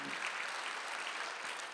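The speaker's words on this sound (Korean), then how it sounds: "박수 한번 주세요" A Sunday worship congregation at a church claps together in an even, sustained round of applause that fills the room throughout.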